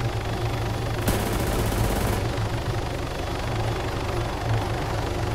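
Video game gunfire during a base defense fight, with sustained automatic bursts over constant loud background noise.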